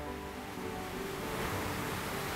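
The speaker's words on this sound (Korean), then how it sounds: "파도가 이 돌 밑으로 들어와서 쏘는 거구나" Ocean waves surging and churning under coastal rocks at a blue hole in Saipan, a steady broadband roar of surf and spray with gusting wind, continuous and close, without talk.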